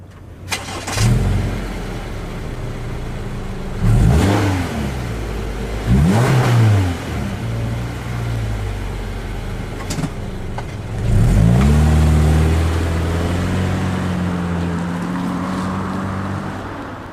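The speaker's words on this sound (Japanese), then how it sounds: "ノーマルマフラー、" A Subaru Impreza Sport with its stock muffler in Gran Turismo drives at low speed, the exhaust burbling through several gentle rev rises and gear changes, close and clear with no talk.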